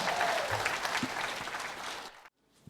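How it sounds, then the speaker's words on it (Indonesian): Applause from the crowd at the Pemuda Batak Bersatu East Java declaration event for their chairman, a dense steady wash of clapping that cuts off abruptly near the end into near silence. "Kita berikan tepuk tangan yang meriah untuk ketua kita"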